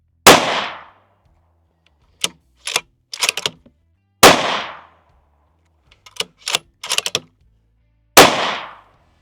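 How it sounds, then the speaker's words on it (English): Three loud, sharp rifle shots fired in practice before a PRS match, evenly spaced about four seconds apart, each followed by a brief echo and clicking bolt-action cycling in between. "We're just going to take 3 shots, get speed, and then we'll check target and see what happens."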